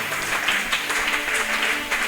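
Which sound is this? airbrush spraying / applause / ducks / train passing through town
applause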